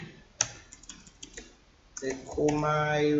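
Sparse, light keystrokes on a computer keyboard tap out over the first second and a half, close and fairly quiet, before a sustained voice takes over.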